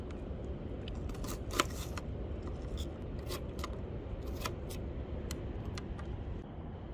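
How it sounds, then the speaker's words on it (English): An onion is cut with a knife at a campsite. Crisp, irregular slicing crunches and taps sound up close over a steady outdoor background hiss, with no talking. "Maybe I should just cut up the entire onion."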